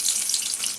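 Garlic sizzles in hot oil as tempering starts for a Maharashtrian colocasia-leaf fatfata, a steady close crackling hiss with no voices.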